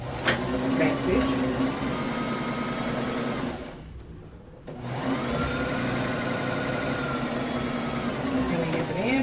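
A sewing machine runs in steady buzzing stretches while back-stitching a sleeve seam, pausing briefly in the middle before resuming, heard close with some talk.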